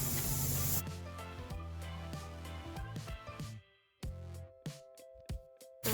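Water spray rinsing the condenser coil of an outdoor HVAC unit, a steady close hiss of spraying water that cuts off partway through, leaving a few brief knocks and tonal hums alone.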